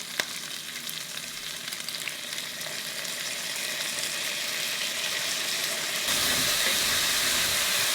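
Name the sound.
bell pepper and minced garlic sautéing for beef stew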